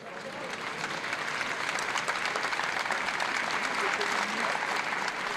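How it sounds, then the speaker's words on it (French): A neighbourhood crowd gathered on a square for a memorial against violence bursts into applause that builds from a quieter start into sustained, dense clapping, with faint voices mixed in. "puis les applaudissements."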